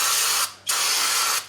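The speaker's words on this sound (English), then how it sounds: "Just spray that down, let that dry." Brake cleaner sprayed from an aerosol can onto the front wheel hub of a 2004 Toyota Sienna during a brake job: two loud, close hissing bursts split by a short pause, with no talking.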